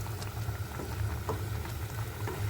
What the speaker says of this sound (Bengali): ঝোলটাকে একটু ফোটার জন্য অপেক্ষা করব